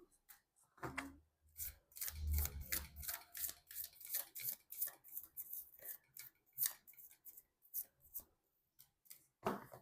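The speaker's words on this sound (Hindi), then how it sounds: "मैं कर लेती हूँ कार्ड की शफलिंग" Tarot cards being shuffled by hand for a Hindi tarot reading, a quick run of soft close riffling and flicking taps that goes on for several seconds with no talk.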